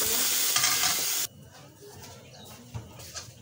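Mixed vegetables and scrambled egg for fried rice sizzle and are stirred in a pan, a loud close hiss that suddenly drops off, leaving soft scraping and light clatter.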